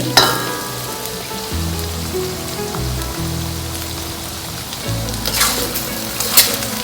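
Garlic chicken stir-frying in a hot oiled pan, a continuous crackling sizzle with brief stirring scrapes and sharper pops near the end, over steady low tones.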